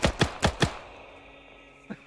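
In Arma 3, four quick, evenly spaced gunshots snap out close and loud, followed by a pause and one more single shot.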